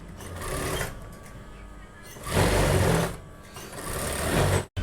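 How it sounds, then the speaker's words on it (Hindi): A sewing machine runs in quick bursts while stitching the sleeve of a kurti, a rapid mechanical whir that rises and pauses with the work, close and moderately loud, with no voices heard. "एक सिलाई इस मार्किंग के ऊपर लगाएंगे और एक सिलाई एक पैर का निशान रखते हुए हमें सिलाई लगा लेनी है"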